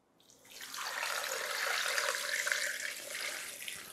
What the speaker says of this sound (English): we're gonna throw in 32 ounces of chicken broth